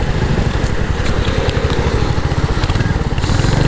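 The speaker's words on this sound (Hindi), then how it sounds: "एंड एग्जॉस्ट नोट पे भी आपको समझ में आ जाएगा कि वही चीज़ आपको दिख रहा है ऑन दिस मोटरसाइकिल" A Royal Enfield Hunter 350 motorcycle's engine and exhaust during a slow U-turn, a loud, steady, close thumping with an even pulse and no talking over it.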